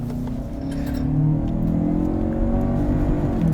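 A 2019 Lincoln Nautilus with a 2.0-liter four-cylinder engine revs up hard under throttle, a loud, steady engine drone rising in pitch and holding near the car throughout.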